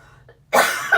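A person with a cold, while making oatmeal, milk and honey soap, coughs twice in quick succession, close and fairly loud after a brief quiet pause.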